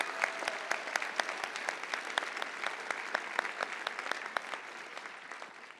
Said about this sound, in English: Let's give all a huge round of applause to the Ames Community College Fall Class of 2023.